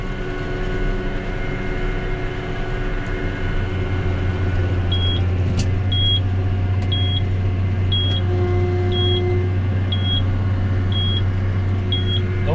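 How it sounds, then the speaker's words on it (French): A series of short, evenly spaced high beeps from a round baler's full-bale warning repeats steadily over the loud, constant drone of a running tractor engine and machinery on a farm. "le bip, c'est pour m'avertir que la botte est remplie"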